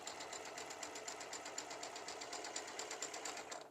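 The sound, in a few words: sewing machine slowly sewing a quilt block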